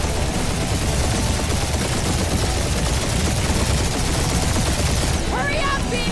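Turrets fire relentlessly in the Guardians of the Galaxy video game, a dense, continuous barrage of rapid shots close and loud throughout.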